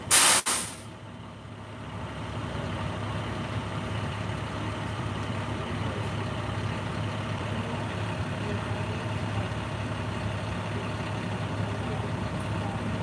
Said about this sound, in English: Noisy truck though, ain't it?